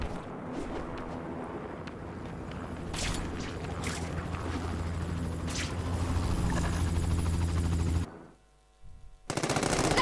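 Steady helicopter rotor drone in The Amazing Spider-Man 2 video game, layered with bursts of automatic gunfire, loud and continuous, briefly cutting out near the end before resuming.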